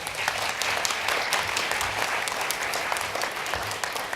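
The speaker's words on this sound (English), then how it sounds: "Let's give a great round of applause for everybody who's been involved this morning" Sustained, dense applause from an audience at the close of a morning sustainability dialogue session, loud and steady throughout with no talk over it.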